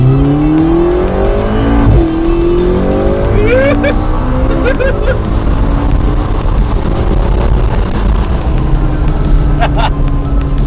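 A 650-horsepower twin-turbo V8 in a McLaren revs hard toward 8,000 RPM, its loud continuous engine roar climbing and shifting in pitch from inside the car, with brief tire or mechanical chirps layered over the steady drone.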